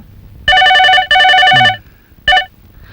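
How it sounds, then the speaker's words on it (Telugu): A telephone rings with bright electronic trills in three bursts: two long rings back to back, a pause, then a short third ring. Loud and close. "చాలా సేపటి నుంచి రింగ్ అవుతుంది, లిఫ్ట్ చేయట్లేదు."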